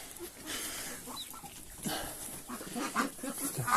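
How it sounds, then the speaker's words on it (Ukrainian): Chickens cluck and squawk intermittently at a moderate distance, with brief higher calls scattered over a steady outdoor background. "Кури тут не повинні бути, але ну, вони перелітаються, сидять тут."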